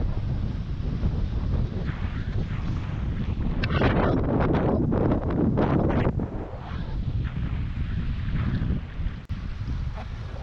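Steady strong wind buffeting the microphone during a wingfoil race at Changi Beach, Singapore, a continuous loud rushing roar with water and board noise, no talk.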